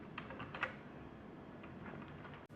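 Keys clatter on a computer keyboard during a LibreOffice lesson, a scattered run of light clicks with a sharper tap near the start, fairly faint over a steady room hum.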